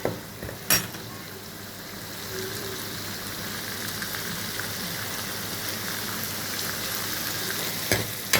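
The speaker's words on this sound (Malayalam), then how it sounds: "2 ചരടം മുളകും കൂടെ എടുത്തിട്ട് നല്ല വറുക്കുവാണ്." Shallots and chillies fry in hot oil with a steady, close sizzle that runs throughout, broken by a couple of sharp utensil clanks near the start and end; no one speaks.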